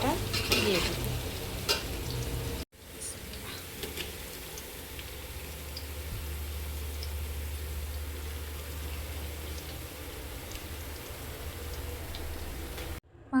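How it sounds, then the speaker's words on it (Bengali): Marinated meat added to browned onions in a pot, a steady sizzle with stirring scrapes and occasional taps, fairly quiet and continuous after a brief break. "এখন আমি এখানে মাংসটা দিয়ে দেব।"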